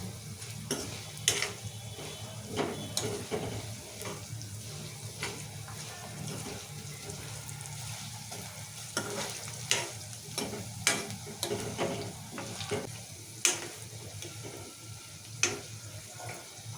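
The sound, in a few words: sesame seeds spluttering in hot oil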